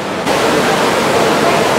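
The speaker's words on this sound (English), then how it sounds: "5 million gallons of water come through here every single day" Underground river rushing through a cave, about five million gallons a day, a steady loud broadband roar of flowing water that stays even throughout with no voices.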